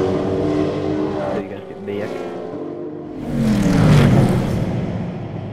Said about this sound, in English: The motor on it sounds so sick.